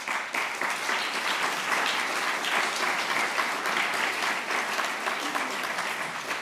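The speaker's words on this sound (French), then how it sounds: "On peut l'applaudir." An audience applauds a foundation supporter at a gathering, steady dense clapping filling the room throughout with no speech over it.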